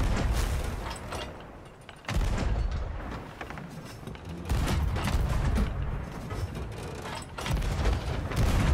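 Ship cannons firing in the pirate game Sea of Thieves, a dense run of loud booming blasts and rumbling impacts with sharp onsets near 2, 4.5 and 7.3 seconds, continuing without a break and without talk.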